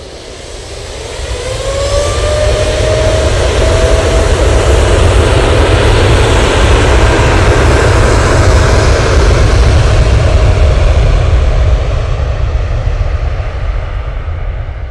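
An Emirates airliner's jet engines at Manchester Airport swell into a loud, powerful roar within a couple of seconds, with a rising whine over a deep rumble, then hold full and steady to the end, no talk.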